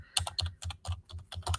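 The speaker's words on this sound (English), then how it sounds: "So I'm typing this, as you can see, in the search box here." Someone types into a search box on a computer keyboard, a quick run of close, crisp key clicks in an uneven rhythm, with no talking.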